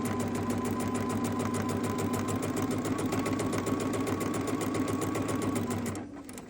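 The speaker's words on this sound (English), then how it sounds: "I like to back stitch just to reinforce that corner." Sewing machine back stitching to reinforce a fabric corner while making a hair bow, a steady fast mechanical whir running continuously close up before stopping abruptly near the end.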